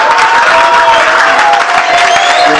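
A church congregation claps and cheers for Jesus, a loud, dense wash of applause and crowd voices that stays steady throughout with no pauses.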